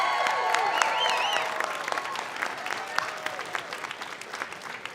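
An audience applauds steadily for the 2020 Juno Awards nominees at a live announcement event, a dense wash of clapping with some crowd noise and a few cheers on top, fairly near and sustained throughout.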